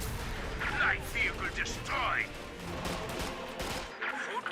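Gunfire from the Company of Heroes 2 video game crackles in steady rifle and machine-gun bursts with booming artillery, heard beneath a voice talking over the battle.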